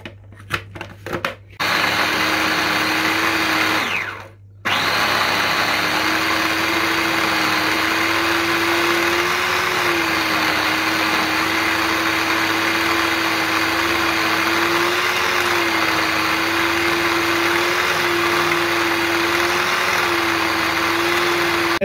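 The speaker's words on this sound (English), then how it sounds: "As you're processing your falafel mixture in your food processor" A food processor whirs loud and steady through a falafel mixture of chickpeas and chickpea flour, stopping for two brief pauses near the start before running on continuously.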